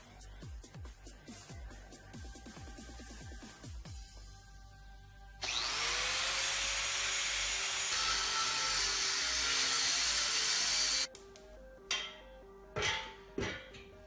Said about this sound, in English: So what I'm going to use here is just a 4-inch cutoff wheel from Harbor Freight with my 4-inch grinder.